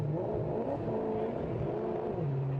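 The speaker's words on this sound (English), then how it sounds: "Engine fires up on the Mustang." A Mustang race car engine fires up during the Spa 24-hour endurance race, rising to a revving drone with wavering pitch, moderately distant and without voices.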